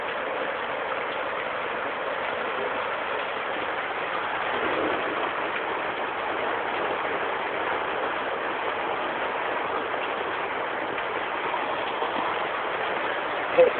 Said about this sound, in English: Sideways that rain. You see that rain? Shooting down.